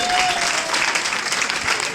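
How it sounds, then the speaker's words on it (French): Audience in a company presentation hall applauds the assistant hosts who have stood up, a steady, dense round of clapping throughout with a faint voice underneath. "Applaudissez très fort pour eux"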